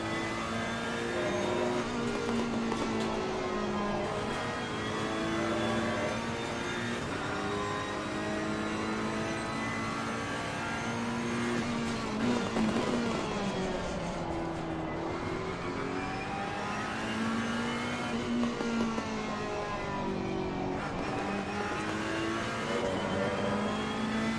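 A Ferrari race car engine in the racing game Assetto Corsa Competizione, on the Nürburgring, revs up and down continuously, its rising and falling whine sweeping through gear changes at a steady, loud level.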